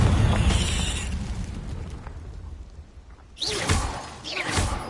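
A fiery Confringo spell blast in Hogwarts Legacy, a loud broad roaring burst at the start fading over two seconds, followed by a second crackling flare and whooshes.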